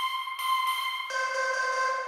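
A synth note drenched in reverb sits alone in a dance music remix, holding a steady tone that shifts up to a new pitch partway through and rings on with a washy tail.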